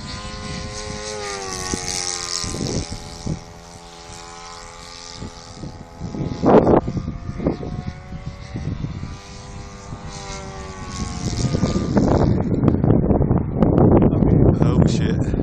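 Tucano propeller aircraft flying low aerobatics at Lydden, its engine droning and swelling as it passes and climbs, louder near the end, with voices talking at times.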